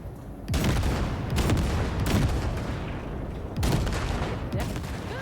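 Gunfire blasting floating wrecks in Cyberpunk 2077, with repeated loud booming volleys that roll into one another across the whole stretch, close and dense with no pauses.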